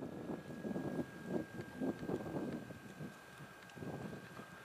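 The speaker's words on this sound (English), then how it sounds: "Wind's blowing pretty good." Wind gusting outdoors in snowy woods, a steady rushing roar with rhythmic buffeting against the microphone, fairly loud and continuous with no voices.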